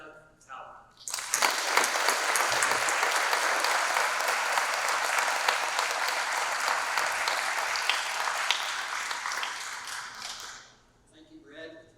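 A lecture audience applauds to welcome Professor Doug Tallamy at a university sustainability talk, a loud, sustained wash of many hands clapping for about ten seconds before fading out.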